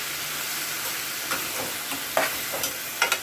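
Tomatoes dropped into a pan of garlic that has fried until reddish, giving a steady broad sizzle. Several short scraping stirs break through it.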